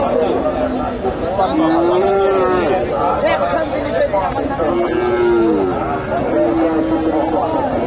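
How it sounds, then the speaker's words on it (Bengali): Friesian cross-breed bull cattle at a busy cattle market give several drawn-out moos that rise above steady crowd chatter and people talking nearby. "এখানে মোটামুটি প্রচুর সার গরু আছে।"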